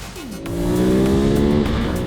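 A motorcycle engine revs up quickly as it accelerates, its pitch rising steadily, loud and close for a couple of seconds.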